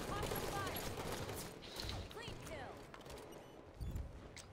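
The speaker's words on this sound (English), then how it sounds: "Five of us shooting at him." Video game gunfire rattles in quick, overlapping bursts of shots at moderate volume, with several players firing together and voices talking over the continuous clatter.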